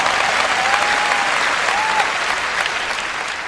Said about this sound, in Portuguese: você não está aplaudindo tão alto quanto aplaudiu para outras coisas